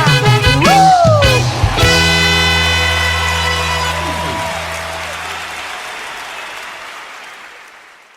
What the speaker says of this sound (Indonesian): Berikan tepuk tangan sorak-sorai bagi Allah kita.